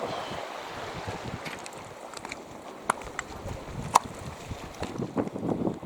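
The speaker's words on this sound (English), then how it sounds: "It's a bit of a cold wind." A cold wind blows outdoors and rumbles steadily across the microphone, with a few faint clicks and knocks. Nobody speaks.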